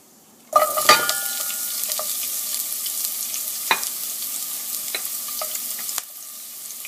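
Onions tipped into hot oil with cumin seed and stirred for a string bean, tomato and eggplant curry; a loud sizzle bursts in and holds steady, broken by scraping stir strokes, with no talk.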